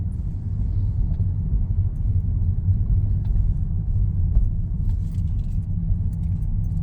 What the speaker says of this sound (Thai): เดี๋ยวผมจะกดคันเร่งเบาๆนะ